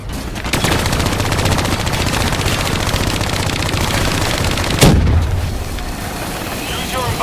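Sustained rapid gunfire from a hijacked turret in Call of Duty Black Ops 3, a dense, loud, continuous rattle of shots with a sharper blast near the end, with voices speaking over the firing.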